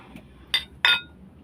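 Drinking glasses clinking in a toast, two sharp bright chimes about a third of a second apart, close and clear over a quiet room.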